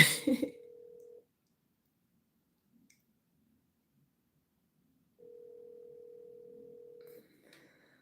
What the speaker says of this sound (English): The phone calling, but it's not ringing.